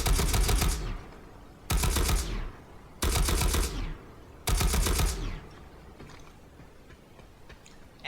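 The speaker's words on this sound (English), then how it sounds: "the better thing to do, rather than do that, would be to burst fire like so" Four sharp bursts of automatic fire from a gun in the video game Planetside, each a loud rapid volley of about a second, separated by brief pauses and followed by fading echoes.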